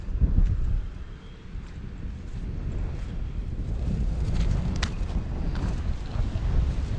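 Strong seaside wind near moored yachts on a Taiwanese beach, a steady loud rumbling buffet across the microphone with gusts rising and falling throughout.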